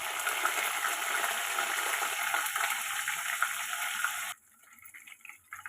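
Curry leaves and green chillies frying in oil for an ivy gourd and coconut curry, a loud, close crackling sizzle that cuts off abruptly to quieter faint clinks and hiss.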